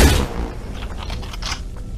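Gunfire in the VR battle royale game Population One, a burst of shots close and loud at the start, then a scatter of fainter pops and cracks through the rest.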